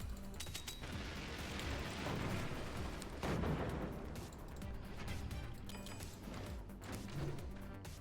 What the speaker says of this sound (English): Direct impact on the mortar, great job.